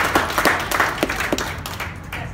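A stand-up comedy crowd of retirees breaks into steady, lively applause with dense overlapping claps from many hands that carry on throughout and taper slightly toward the end.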